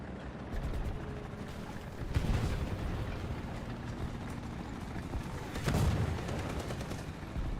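Incoming fire in War Thunder lands as rapid, rattling gunshot impacts over a constant engine-like rumble, with two heavier bursts of hits standing out, close and loud.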